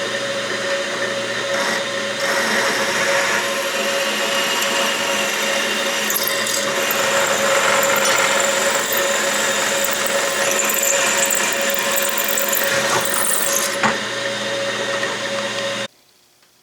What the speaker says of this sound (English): And now drilling the 3 gib holes